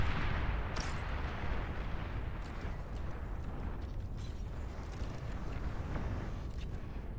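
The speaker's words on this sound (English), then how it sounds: "Warning, long-range plasma cannon targeting your units." Distant artillery-style plasma cannon fire from a long-range plasma cannon in the strategy game Beyond All Reason, a steady rumbling barrage of dull booms over dense low noise throughout, with no voices.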